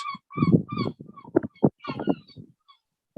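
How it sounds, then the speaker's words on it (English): Seagulls call in the background, a series of loud, honking and squawking cries in uneven bursts with short pauses between them, close and clear with no talk over them. "you can hear seagulls in the background"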